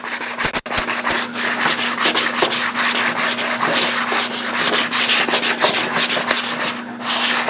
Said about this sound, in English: So we'll use some finer sandpaper now to finish the job here.